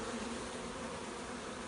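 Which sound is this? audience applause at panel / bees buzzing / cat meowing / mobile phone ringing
bees buzzing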